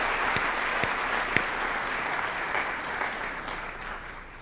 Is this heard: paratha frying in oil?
no